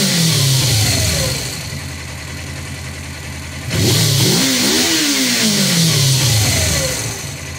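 A Suzuki GS 500 E motorcycle engine runs after a timing chain replacement and valve adjustment, revving up and easing off twice with clear rising and falling pitch, loud and close with no talking.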